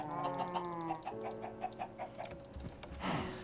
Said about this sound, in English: is for the chickens to lay some eggs.